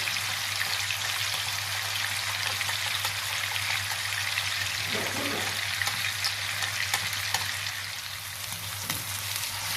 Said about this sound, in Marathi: आता हे आपल्याला मंद आटेवरती चार ते पाच मिनिटं चांगलं फ्राय करून घ्यायचं आहे